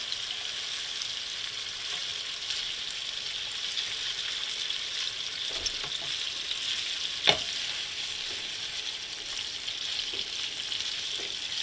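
Filet medallions with fresh rosemary and Brussels sprouts frying in a pan: an even, close hiss of sizzling fat that runs throughout, with one brief sharp tap partway through.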